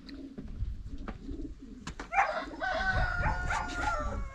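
Pigeons in a pigeon loft, with soft low cooing throughout and a burst of louder bird calls and rustling in the second half, close by.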